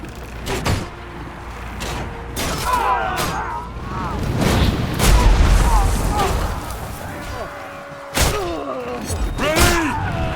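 Volley fire in the video game Ryse: Son of Rome comes as loud booming thuds and impacts in several bursts, mixed with shouted battle commands and voices.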